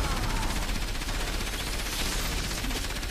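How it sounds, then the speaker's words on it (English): A gun-arm enemy in the video game Enslaved: Odyssey to the West fires continuously: a dense, steady stream of rapid shots keeps going at an even level throughout, busy and loud with no pauses. "the gun arm just kept shooting away, even after I dislodged it and destroyed the body that it was attached to"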